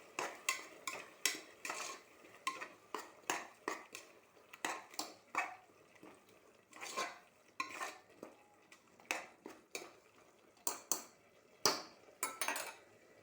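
A ground onion, tomato, coriander and mint paste being stirred in a pan, with repeated scraping clinks of a metal spoon against the vessel in an irregular rhythm, close and fairly quiet, with no talking.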